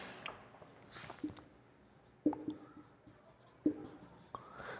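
A computer mouse button clicks a few times, each click sharp, brief and isolated, spread over a few seconds against a quiet, faintly scratchy room background, with no talking.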